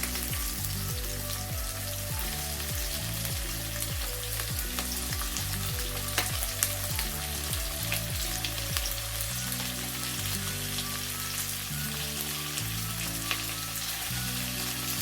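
Prawns frying in a hot pan for a spicy seafood dish, a steady close sizzle running the whole time beneath melodic background music.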